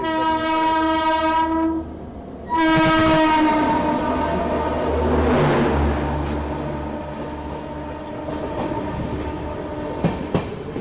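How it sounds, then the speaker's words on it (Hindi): The Amritsar Shatabdi Express passes through a station, sounding a long horn blast that breaks off, then sounds again over a heavy rolling rumble and rhythmic wheel clatter, loud and close. "तो ये मेरे ख्याल से अमृतसर शताब्दी एक्सप्रेस है।"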